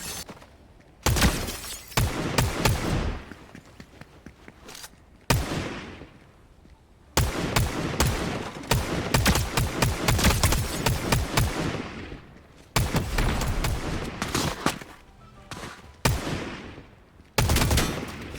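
Gunfire in Fortnite comes as loud, sharp shotgun blasts and rapid bursts. Close, dense volleys are broken by brief quiet gaps and continue for most of the stretch.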